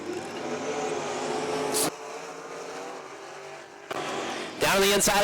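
Race cars of the GLTS series at Tri-City Motor Speedway, a steady loud engine roar during heat racing with cars powering off turn four, swelling as they pass close, under a race announcer's running commentary.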